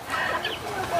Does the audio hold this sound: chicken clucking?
yes